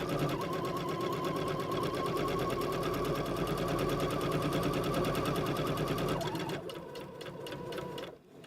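A sewing machine runs a continuous fast stitch along a zipper seam, loud and close, then slows briefly and resumes before stopping.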